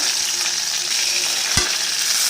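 Steady hiss of oil as urad dal, mustard seeds, curry leaves and chopped green chili temper in a pan for green garlic dosa, with one brief clack of a spoon around the middle.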